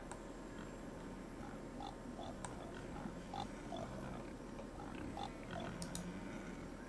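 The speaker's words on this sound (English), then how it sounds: "Pig." Pig oinking in the Cities: Skylines farming industry, a few short faint grunts scattered over a dense, steady ambient game hum, with no voices.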